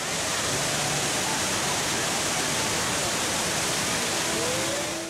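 The indoor Rain Vortex waterfall at Jewel, Changi Airport, pours as a steady, loud broadband roar of falling water, constant and enveloping throughout, with no pauses.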